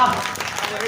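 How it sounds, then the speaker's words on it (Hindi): An audience claps at a Diwali poetry gathering, a short burst of dense applause with a voice mixed in. "एक बार जोरदार तालियां हो जाए।"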